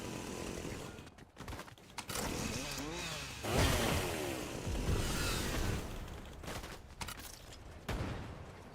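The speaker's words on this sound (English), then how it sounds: "Whoever came up with the idea for this chainsaw is a genius, man." A chainsaw in Fortnite revs and grinds in rising, whirring bursts, loud and close, mixed with sharp gunfire-like cracks and other game noise.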